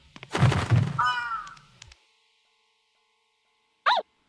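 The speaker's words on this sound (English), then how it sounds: "Screw off, crows." Crows caw in the horror game Yomawari: Midnight Shadows, a harsh burst of caws with a thunk in the first two seconds, then silence, then one more short caw near the end.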